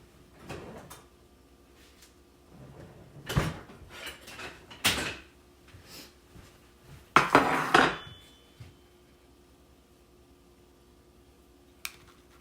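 Someone rummages among kitchen utensils for a spatula, with clattering metal cutlery, pot knocks and drawer or cupboard thumps in scattered bursts, a loud jangling rattle near the end, then quiet with one last click.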